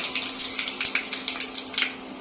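Curry leaves hit hot oil in a tempering of cumin seeds and asafoetida over a low gas flame, sending up a loud, steady rushing sizzle with crackly spatters.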